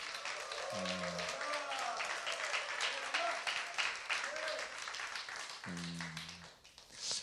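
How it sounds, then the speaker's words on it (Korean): A church congregation applauds the worship team during a Sunday service, clapping running throughout beneath a man's speech, with brief tonal musical notes breaking in twice. "우리 찬양팀, 우리 큰 박수로 우리 찬양팀 좀."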